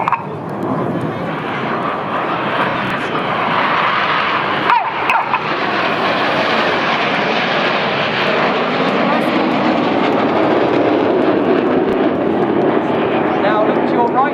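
Red Arrows display jets roar through a low opposition barrel roll at about 100 feet during the Sunderland Airshow, a loud continuous jet-engine rush filling the whole stretch, with a commentator talking over it.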